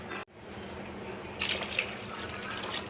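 Water streams steadily from a glass into a pot of oats, a soft continuous pour that swells briefly midway, with no talking.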